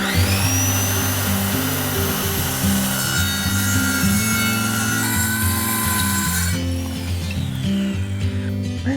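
A saw cuts lumber for a garden bed in a loud, continuous whining, grinding stroke with a steady motor hum beneath it.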